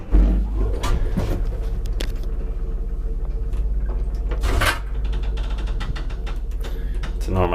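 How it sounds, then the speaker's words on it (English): Old Transporta lift doors in an apartment building in Dúbravka, Bratislava, are shut by hand, giving a few loud, sharp metallic clunks and rattles close by, with a low mechanical hum underneath. "In this door you have to close both sides."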